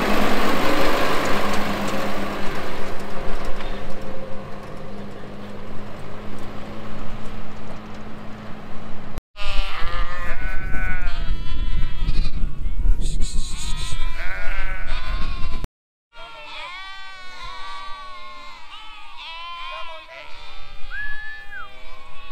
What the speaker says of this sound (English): go and get the rest of the ewes and lambs, and hopefully they go in a lot easier this time